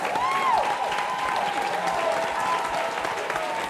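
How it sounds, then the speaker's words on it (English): An audience at a cast gathering for the series "A Different World" keeps up sustained applause, a dense, even clatter of clapping with some cheering or vocal whoops rising over it, loud and near. "So give them a round of applause."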